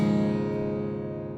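Acoustic guitar in an alternate tuning with strings tuned down, strummed open once. The chord rings out loud and close and decays slowly with no talking.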